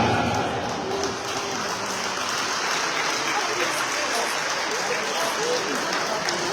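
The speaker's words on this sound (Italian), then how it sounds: "Un applauso per i ragazzi della Slovacchia." Applause for the Slovakian players at a veterans' sports event awards ceremony in Alghero, a sustained wash of clapping mixed with crowd noise and talk, steady and moderately loud throughout.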